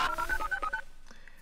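Telephone keypad dialing tones beep in a quick run of about eight close, clear tones, then stop, leaving faint room noise with no talk.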